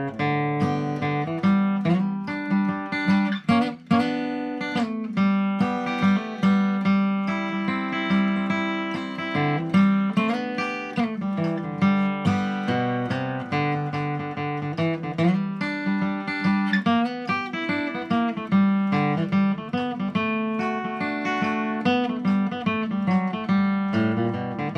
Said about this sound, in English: So here's how I might kick it off on the guitar.